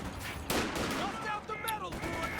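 Machine gun fire in the Company of Heroes strategy video game: quiet, rapid bursts of gunfire mixed into the game's battle soundscape.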